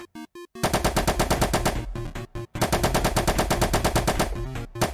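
Gunfire at a shooting range, a few isolated shots followed by long rapid automatic bursts of loud, close cracks with a brief pause between strings.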